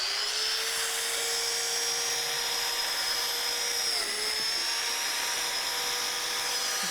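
Biscuit joiner plunging a slot into sheet material while building a media cabinet: a steady, loud high-pitched motor whine runs the whole time, dipping briefly in pitch as the blade bites into the cut.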